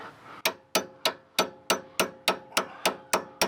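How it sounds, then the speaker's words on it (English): A hammer strikes a hex socket several times to seat it on a grimy Ford Edge sway-bar bolt. Eleven sharp metallic taps land in a steady, even rhythm. They are close and loud, and no voices are heard. "give it a couple of taps so it's good and seated"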